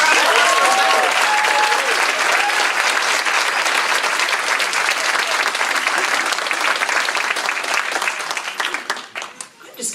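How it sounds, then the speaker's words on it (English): A crowd at a political campaign event applauds loudly and continuously for several seconds, with some cheering mixed in, before the clapping thins out and fades near the end. "So give a round of applause."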